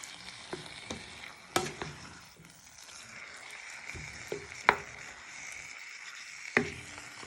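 Quiet, steady sizzling of chicken frying in a pan, broken by a few sharp clicks and knocks of stirring with a wooden spoon at irregular intervals.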